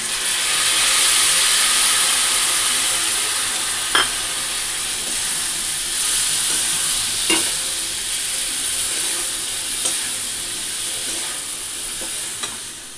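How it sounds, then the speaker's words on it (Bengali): Potatoes and pointed gourd fry in a pan with ground spices, giving a steady loud sizzle and hiss. A few sharp scrapes of stirring break it up, and no one speaks. "তো এই যে মশলা ভাজা হয়ে গেছে"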